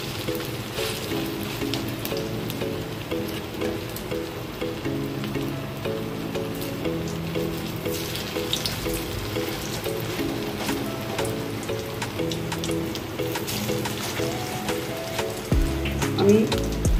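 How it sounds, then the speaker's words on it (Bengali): Sweet potato fritters (rangalu bora) sizzle steadily in hot oil as they are dropped in one at a time, a constant crackling fry under background music throughout. "তাহলে দেখুন আমি বড়াগুলো একটা করে ছাড়ছি"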